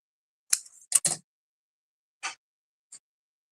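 Scissors trim card paper for a handmade easel card in a few sharp, separate snips, one close pair and then two isolated cuts, with silence between them.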